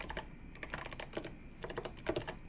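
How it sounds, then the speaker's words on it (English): Fingers type on a computer keyboard while coding a Laravel web app, in quick bursts of close, crisp key clicks with short pauses between runs. "A little bit of typing here."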